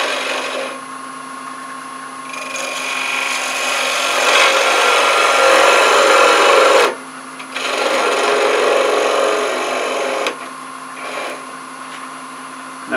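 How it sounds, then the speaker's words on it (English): A drill grinding through wood on a spinning lathe, a loud continuous rasping whir that stops briefly and then resumes, with a steady motor hum beneath. "I drill a hole all the way, just about all the way through it"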